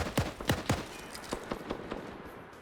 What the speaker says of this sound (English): Grenade goes off.